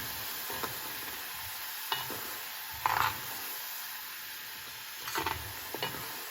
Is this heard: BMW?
no